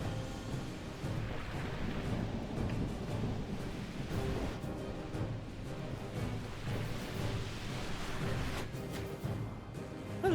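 Steady rain with low rolling thunder from a stormy battle in the strategy game Medieval 2, a dense continuous wash of noise at moderate level with no speech.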